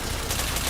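Gunfire in a video game, a dense burst of rapid shots heard as one continuous, loud, harsh blast across the whole brief moment.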